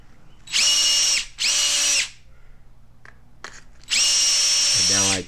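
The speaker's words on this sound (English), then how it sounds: "now I get a small drill bit so I can fit through the PCB board" A small power drill with a small bit whirs in short bursts drilling through a PCB board, three spins of about a second each, close by, with quiet pauses between them.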